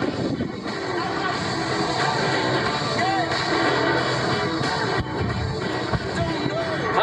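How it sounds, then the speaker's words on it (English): At an airshow, the Hot Streak II jet truck with afterburning J34 jet engines gives off a loud continuous roar with rumbling bursts. It is heard from a distance in an open outdoor setting, with a crowd faintly present. "J34 afterburning jet engines. It is arguably one of the highest performing jet trucks anywhere."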